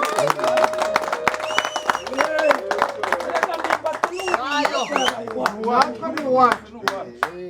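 An audience claps at a Rwandan comedy show, a run of sharp, scattered hand claps heard under loud speech throughout.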